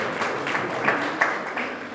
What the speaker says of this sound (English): We can still clap.